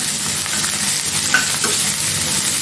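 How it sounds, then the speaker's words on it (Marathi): Onion and green chilies sautéing in a pan for a Marathi cowpea pod bhaji, a steady broadband sizzle with a few soft stirring scrapes, close and continuous with no talk. "तो कांदा टाकते। थोडंसं अगदी मी परतून घेते"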